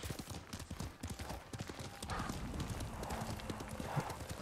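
A horse trots in Ghost of Tsushima, its hooves clip-clopping in a quick, steady rhythm over the game's ambient sound, with soft voices now and then.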